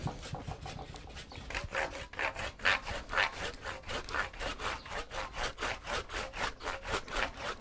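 A material saw with large teeth cuts through plaster in steady, rhythmic back-and-forth strokes, loud and close, gradually quickening, with no talking.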